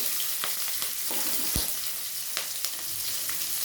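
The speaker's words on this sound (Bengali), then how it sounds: "পেঁয়াজগুলো ভালো করে ভেজে নেব।" Chopped onions and two slit green chillies fry in a little oil left over from frying fish, giving a steady close sizzle with a few sharp crackles and stirring clicks throughout.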